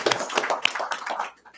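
A brief burst of hand clapping from a small group at a town council meeting, lasting about a second before fading out.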